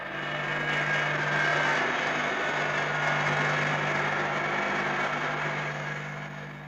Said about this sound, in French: 2 coups de scie pour une marche.